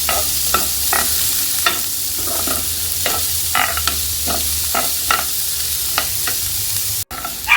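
Garlic and onions sautéing in a pan for paella, with a steady sizzle under repeated rhythmic spatula scrapes and stirring clatters, close and fairly loud throughout.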